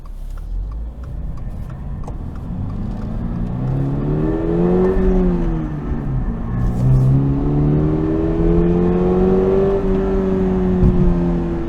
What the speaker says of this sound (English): This car is very loud, but it does make you happy when you get a chance to ring it out.